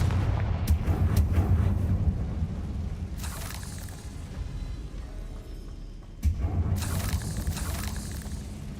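Booming blasts from the Confringo spell in the video game Hogwarts Legacy hit in two heavy bursts, each followed by a rumbling decay.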